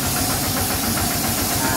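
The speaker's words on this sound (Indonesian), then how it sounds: "Intinya mesin ini menghasilkan angin untuk dibawa ke ruangan ini" An air-blowing machine used in glass making runs loud and close, a continuous mechanical roar with a fast, knocking pulse beneath a breathy hiss.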